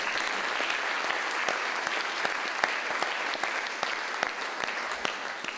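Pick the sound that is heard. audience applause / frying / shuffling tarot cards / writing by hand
audience applause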